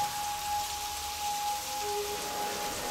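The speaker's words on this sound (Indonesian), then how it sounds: "Hujan mulai mengguyur saat itu." Steady rain pours down as a sound effect in an audio drama, a constant soft hiss of falling water with a faint tonal hum beneath, no voices.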